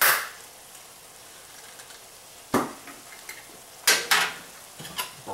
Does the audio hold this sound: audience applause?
no